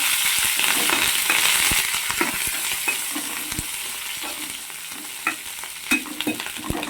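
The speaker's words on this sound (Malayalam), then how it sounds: "ഇനി നമ്മൾ കരിവേപ്പിലയും മുളകും ഇടുവാണ്." Curry leaves and chillies fry with browned onion in a pan, giving a steady, close sizzle with scraping stirs and a few sharper spatula knocks toward the end.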